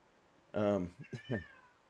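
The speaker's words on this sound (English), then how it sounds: "There's a kitty meowing beside me." A cat meows close by, one long drawn-out call followed by a couple of shorter chirpy meows.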